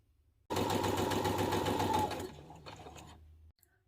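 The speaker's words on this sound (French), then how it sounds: "j'ai fait la première piqûre de maintien sur le tout premier pli" A sewing machine runs a holding seam along the first front pleat of a blouse: a loud, steady, rapid whir of stitching that slows and thins before stopping, with no talk.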